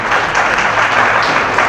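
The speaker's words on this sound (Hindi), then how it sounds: "कृपया जोरदार तालियां।" Loud, dense applause from an audience at a Teachers' Day teacher-honouring ceremony in 2023, a steady wash of many hands clapping without pause.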